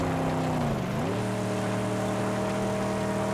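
A car is driven in the Mad Max video game with a steady, loud engine drone whose pitch dips briefly and then settles into a constant hum, with no talking.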